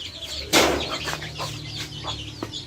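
Free-range broiler hens cluck softly and scratch about while feeding, with a sudden burst of flapping wings, then scattered short clucks continue close by.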